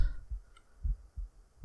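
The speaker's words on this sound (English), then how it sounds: "there's heartbeats too" Slow, deep heartbeat thumps from the creepy horror platformer Eversion, soft low pulses repeating roughly every third of a second to half second over a faint hum, with no voices.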